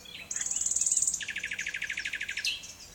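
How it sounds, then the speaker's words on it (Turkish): A nightingale sings outdoors in a nature setting, a long bright whistled note followed by a fast, evenly pulsed run of repeated chirps, clear and fairly close with no talking. "Bu bülbül bir baba bülbül. CD'min yarısından çoğunu öttü."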